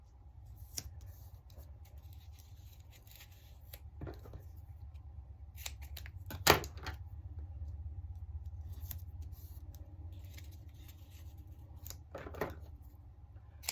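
An old pair of scissors snips sticky 3D foam tape several times at irregular intervals, quiet and close, against a low steady hum.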